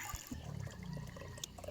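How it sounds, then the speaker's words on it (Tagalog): Water from a bucket pours into a gallon container, a close, splashy liquid gurgle with a couple of sharp sloshes at the start, heard alone without speech. "Kapag nakaipon na ako ng tubig sa timba, sasalin ko siya dyan sa galon."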